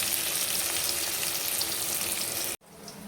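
Potatoes frying in a pan on a home stove give a steady, dense sizzle that runs unbroken for most of the clip, then cuts off abruptly and returns more quietly.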